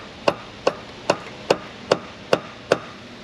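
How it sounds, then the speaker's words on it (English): A mallet taps an oil cooler down onto a plastic-housed Pentastar 3.6 V6 engine: seven light, evenly spaced knocks, about 0.4 seconds apart, close and clear with nothing else beneath. "We shall lightly mallet this unit down"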